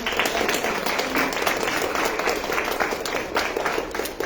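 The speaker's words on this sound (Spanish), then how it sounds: "Aplausos." Steady applause from an audience at the official launch of a Peruvian electoral dictionary: a continuous wash of many hands clapping at moderate loudness throughout, without speech.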